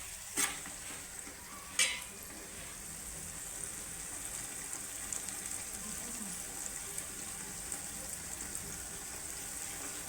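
Curry vegetables sautéing in oil in a pan, a steady soft sizzle running throughout with two brief clinks of a spoon early on, no talking.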